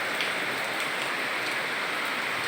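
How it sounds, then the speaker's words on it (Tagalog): Steady rain falls in a backyard, a continuous soft hiss of drops on surfaces, even and moderately faint with no voices. "Ayun, ang ulan."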